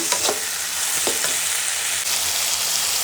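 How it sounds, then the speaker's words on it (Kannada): Tomatoes frying in a pan for bisi bele bath, a loud, continuous close-up sizzle with a few brief spatula scrapes and stirs, no talking. "ಇದು ಟೊಮೊಟೊ ಎಲ್ಲ ನೀಟಾಗಿ ಸಾಫ್ಟಾಗಿ ಫ್ರೈ ಆಗಬೇಕು ಅದಕ್ಕೆ ಫ್ರೈ ಮಾಡ್ಕೊಬಿಡೋಣ"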